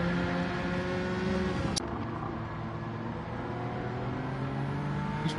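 A turbocharged car engine in a racing video game drones steadily under acceleration, its layered tone holding loud and close throughout, with a couple of brief sharp clicks.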